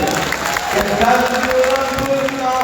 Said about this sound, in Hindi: एक बार ताली बजा करके मुझे इस नज़्म के लिए